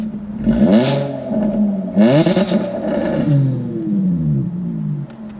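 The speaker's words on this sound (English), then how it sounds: "This particular one is a V6, and that's with the exhaust off." A Jaguar F-Type V6 convertible (X152) with its exhaust valves closed, heard close and loud as it starts and revs in two strong rising blips, then settles into a steady idle.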